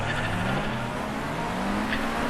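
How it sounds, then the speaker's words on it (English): A race car spins out at Donington Park in Project Cars, its engine note rising and sliding under a steady roar with a tire squeal, loud and continuous, with no talk. "Here you are, just spun out."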